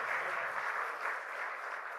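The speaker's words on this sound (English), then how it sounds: "I would request a huge round of applause for Mr. Simon Flowers" A seminar audience at a CEO conclave breaks into steady, dense applause for a speaker, a continuous wash of many hands clapping with no talk over it.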